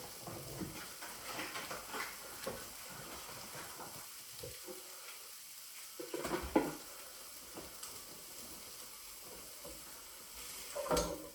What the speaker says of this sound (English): I'm just going to stir it, just because I do need to kind of stir it, otherwise the bits that haven't been stirred will burn.